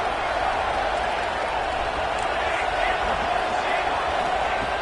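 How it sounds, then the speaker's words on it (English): Big college football stadium crowd at an Oregon versus South Carolina game, a constant dense roar of cheering and chatter filling the space evenly, with no distinct individual shouts rising above it. "Listen to the crowd energy here in the early going."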